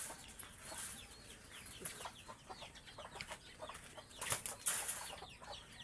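Chickens on a farm clucking in short bursts, with wings flapping and fluttering now and then, fairly faint and somewhat distant, with no talking.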